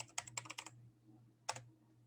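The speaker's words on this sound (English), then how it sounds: "So here's the cheat sheet where I'm typing out." Typing on a computer keyboard, a quick run of close, crisp key clicks followed by a pause and then one more short burst of keystrokes.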